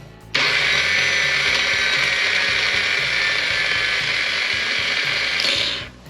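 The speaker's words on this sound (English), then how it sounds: "Starter's not engaging the motor" A starter motor spins freely without engaging the engine, a loud steady high-pitched whir that kicks in abruptly, holds evenly for about five seconds, then cuts off.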